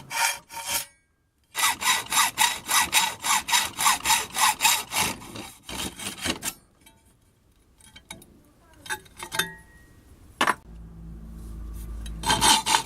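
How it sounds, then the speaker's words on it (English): A hacksaw rasps through metal in fast, steady back-and-forth strokes, loud and close, then stops, leaving scattered clanks and scraping. "Cut down both sides with a hacksaw to remove the unwanted section."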